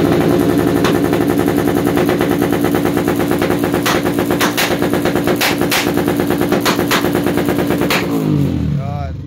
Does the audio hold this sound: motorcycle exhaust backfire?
yes